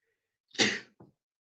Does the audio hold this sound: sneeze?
yes